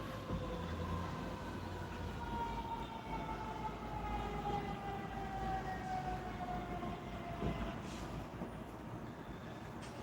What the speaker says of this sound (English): There's our obligatory sirens.